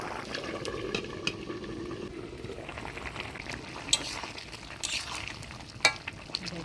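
Pea lentil fritters in a covered pan give a steady, soft sizzle and bubbling, with occasional light clinks and a few sharper pops over the continuous frying hiss.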